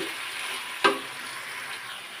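Elephant apple pickle is stirred with chilli powder in a pan, with a soft continuous sizzle and one sharp scrape of the spoon against the pan partway through.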